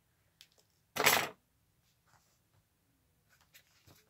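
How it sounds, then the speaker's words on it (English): A single short snip of scissors through a book page for a junk journal, close and crisp, with a few faint paper rustles and soft taps around it and no voices. "we're going to cut some of this off."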